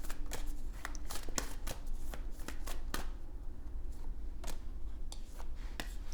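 Tarot cards being shuffled by hand in a series of quick riffling bursts and soft slaps, steady and close, with no talking.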